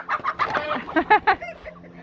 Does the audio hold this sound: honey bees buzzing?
no